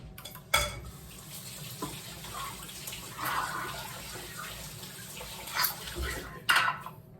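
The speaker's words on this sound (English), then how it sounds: "Rinse my hands real quick." Hands rinsed briefly under a running kitchen tap while making apple hand pies, a soft steady water stream with a few light clinks of dishes, close and fairly quiet.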